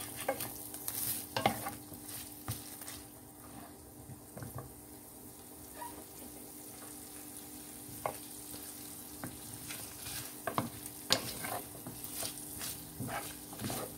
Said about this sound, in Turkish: Etimi kenarda kısık ateşte kavurmaya devam ediyorum